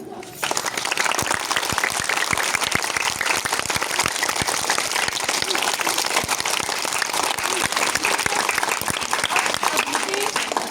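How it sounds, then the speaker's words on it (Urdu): Steady, dense applause from a school audience of young students clapping for their parents, loud and continuous throughout with no talk over it. "اپنے والدین کے لیے سب سے پہلے تالیاں بجائیں"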